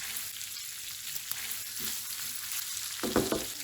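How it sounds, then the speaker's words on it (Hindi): Tikka boti pieces fry in a pan with a steady, close sizzling hiss throughout, and a brief louder burst of spattering and stirring near the end; no one speaks. "अभी हम इसको करते हैं फ्राई"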